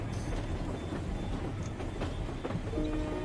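A train rumbles along a mountain railroad in India with over a hundred tunnels and eight hundred bridges, giving a steady low rolling rumble with faint clicks, fairly quiet and distant, with no voices.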